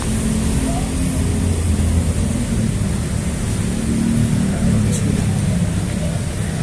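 Low steady rumble of a car creeping slowly onto the sidewalk of a busy Jakarta street at night, with continuous traffic noise filling the background and no clear voices.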